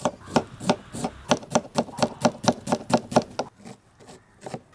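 A knife chops cabbage into thin slices on a board, about a dozen crisp, evenly spaced strokes close by in a quick steady rhythm, then a few softer, scattered cuts.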